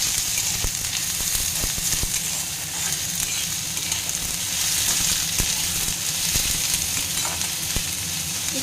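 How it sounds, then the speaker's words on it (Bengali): Onions fry in a pan for a chicken dish, giving a steady, close sizzle with scattered sharp crackles and occasional stirring scrapes, unbroken by any voice. "পেঁয়াজটা গোল্ডেন ব্রাউন হওয়া পর্যন্ত কিন্তু একটু ভাজবেন।"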